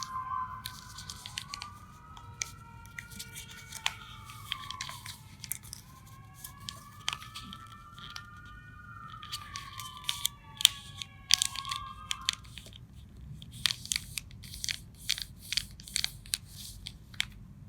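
Sheet of origami paper being folded and creased, with crisp crinkling and sharp pressing clicks scattered through, growing denser toward the end, close and fairly quiet, with soft tonal sweeps earlier on.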